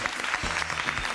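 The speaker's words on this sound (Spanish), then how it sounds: "¡Un aplauso!" Crowd at a dance casting in Madrid breaks into applause, a dense, continuous patter of many hands clapping close by, steady and fairly loud throughout the brief burst.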